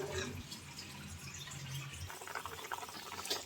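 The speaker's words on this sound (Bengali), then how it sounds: "পরিমাণ মতো জল দিয়ে দিলাম" Water poured from a vessel into a pan of cauliflower and potato curry, a steady close pouring and splashing that shifts to bubbling and trickling midway, with no talk.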